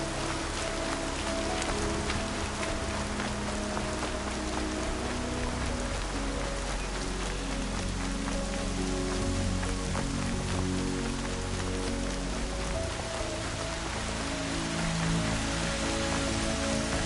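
Steady rain pours in the game Horizon Zero Dawn, a dense continuous patter of drops hitting surfaces with low rumbling ambience underneath, constant and enveloping, without any voices.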